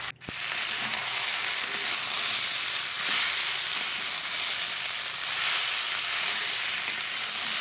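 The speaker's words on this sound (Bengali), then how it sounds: "এইভাবে খুব কম স্টিম দিয়ে রান্নাটা করে নেব।" Beans, potatoes and eggplant cook in a covered pan on low steam, giving a steady, close sizzling hiss. A brief clatter comes at the start, and the hiss then runs on evenly.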